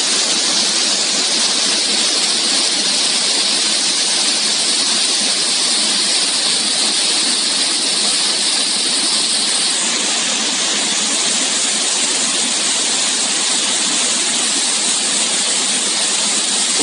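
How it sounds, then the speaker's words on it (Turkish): Mountain streams and waterfalls on a plateau in Kütahya, heard as a loud, steady broadband rush of water that continues unbroken and close by, with no voices. "Yukarı çıktıkça daha büyük şelaleler denk geliyor."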